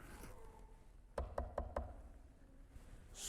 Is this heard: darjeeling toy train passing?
no